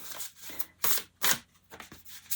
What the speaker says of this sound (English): I need to shuffle it.